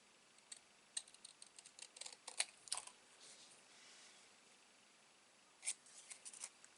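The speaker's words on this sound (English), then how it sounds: "I'm going to use big scissors because I don't want to ruin this" Quiet, crisp snipping and rustling of paper in short irregular bursts, close by, with a pause in the middle before a few more cuts.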